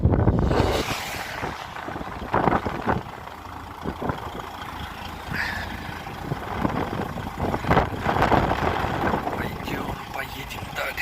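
Blizzard wind buffets a car driving through heavy snow, a constant loud roar with rushing gusts over a low engine drone, and brief bumps and knocks along the way.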